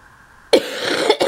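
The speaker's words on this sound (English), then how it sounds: "I apologize for the cough and everything." A single sharp cough bursts out after a quiet lull, followed by a rougher, breathy second cough close to the listener.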